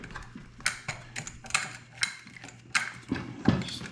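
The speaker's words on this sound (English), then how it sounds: "Put the bolt in the other side. Put the wrench on it." A wrench turns a bolt on a heavy clear-coated prototype part being test fitted to a post, producing close, irregular ratcheting clicks and metallic taps in short bursts, with no talk.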